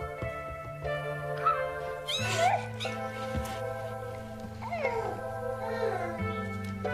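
Six-week-old domestic kittens meow repeatedly in short, high, wavering cries. The mews overlap and sit close, over a sustained musical drone.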